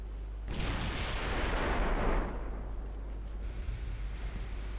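Six-inch naval guns fire on light cruisers in the game Ultimate Admiral Dreadnoughts, one deep booming blast that rolls into a long, rumbling roar and then fades. No one speaks.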